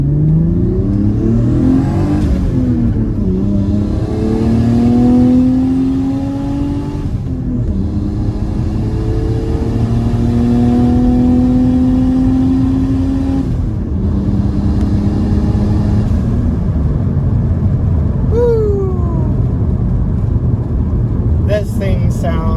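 An inline six-cylinder engine in a boosted family sedan on 18-inch wheels, heard from inside while driving, rising and falling through several gears with steady loud drone and a few revving pulls.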